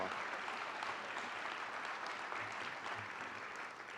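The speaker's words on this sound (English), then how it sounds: "One more time, a big round of applause for Hall of Famer Gary Ingram." An audience at a sports hall of fame induction ceremony in the Chattahoochee Valley keeps up steady, even applause that sounds somewhat distant and soft, tapering off slightly toward the end.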